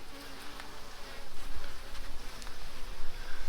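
Honey bees buzz steadily close by while a beekeeper splits a hive using a queen excluder. The droning swarm continues throughout the short moment with no voices.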